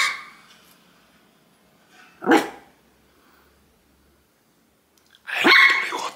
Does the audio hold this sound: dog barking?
yes